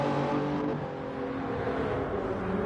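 Mercedes and Porsche race cars in a racing video game, their engines holding a steady, close, loud drone with slight revving swells throughout.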